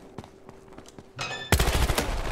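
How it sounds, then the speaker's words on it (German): Gunfire in the video game Battlefield Hardline: faint scattered shots give way to a louder burst and then a dense, close volley of rapid firing, with no talk. "Oh, ich höre wirklich nur einen Mündungsschuss."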